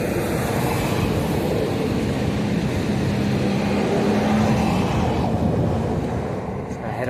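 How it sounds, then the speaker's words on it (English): Passing trains rumble steadily through a hazy outdoor scene near Antibes on a Sunday ride, a continuous broad rolling roar with faint rail clatter, while a voice talks over it. "Ooh, plenty of trains."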